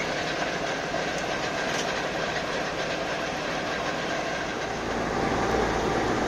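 A V10C locomotive rolls along the rails with steady rumbling and faint rhythmic clicking, a continuous mechanical drone close by, with no talking.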